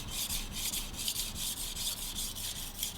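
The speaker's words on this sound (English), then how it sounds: "as you hear the sound the stone makes, you can hear it sounds a little bit scratchy" Powdered stainless steel knife of high hardness stroked across a 300 grit diamond sharpening stone, a scratchy gritty rasp pulsing in quick back-and-forth strokes, close and continuous with no talk.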